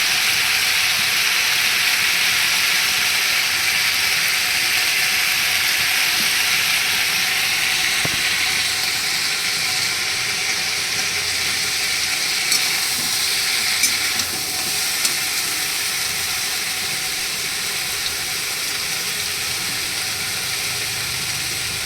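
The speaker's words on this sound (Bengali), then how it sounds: "এর মধ্যে দিয়ে দিচ্ছি কালো জিরে" Nigella seeds sizzle in hot oil in a pan while pumpkin stalks are cooked, giving a steady, close hiss with a few faint clinks and stirring scrapes and no talking.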